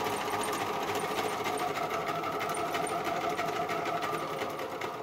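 A sewing machine runs steadily while stitching a buttonhole on a fabric bag, giving a close, continuous motor whir with rapid needle chatter and no talk.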